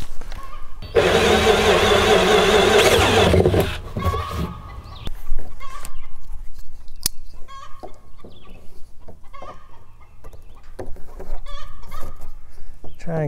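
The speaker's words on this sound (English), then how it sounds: "I'm using an 1 1/8 hole saw." A 1 1/8 inch hole saw on a drill cuts a hole for a pig watering system, giving a loud, harsh grinding whir for about three seconds, then quieter clatter and handling noises.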